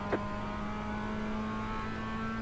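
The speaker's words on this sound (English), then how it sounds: "Faster car coming up quick." A race car in a two-hour production car endurance race, its engine a steady sustained drone with a strong low hum, holding at constant loudness throughout as another faster car closes in.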